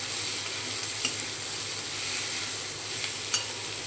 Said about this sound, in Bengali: এরপরে গাজর আর বিনসটা ভেজে রাখা দিয়ে দিচ্ছি। এটাও সুন্দর করে মিশিয়ে দেব।